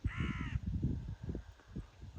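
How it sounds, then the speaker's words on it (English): A crow caws once on a farm, a short harsh call at moderate distance over a low, bumpy background rumble with no talking. "The crow is crowing."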